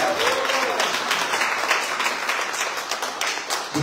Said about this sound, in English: Can we give the guests a clap for